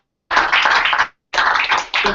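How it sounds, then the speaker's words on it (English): Audience applause for Dr. Willard at an event in Santee: two dense bursts of clapping, the first about a second long, then a brief pause before a second round resumes, loud and close with no talk. "Let's give Dr. Willard a round of applause."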